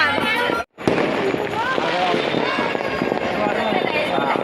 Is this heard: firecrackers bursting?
yes